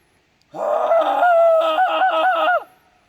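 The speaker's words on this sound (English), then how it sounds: "give out your mightiest logger yell" A lumberjack's single loud, drawn-out logger yell lasting about two seconds, wavering in pitch like a hollered call, with nothing else around it.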